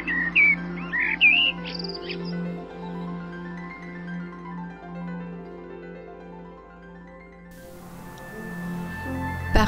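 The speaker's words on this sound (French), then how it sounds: "accueillent une faune, notamment avicole, variée, merles, grives, moineaux et mésanges." Songbirds in a town park square in Hazebrouck, with blackbirds, thrushes, sparrows and tits, give a few bright chirps and trills near the start over a steady low hum, then the background shifts.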